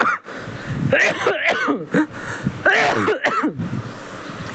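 A person coughs and clears their throat in several harsh, rasping bursts, close and fairly loud, with short pauses between fits.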